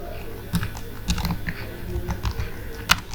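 Someone types on a computer keyboard while entering a sum formula into an Excel spreadsheet: sparse, quiet keystroke clicks scattered over a low, steady background hum.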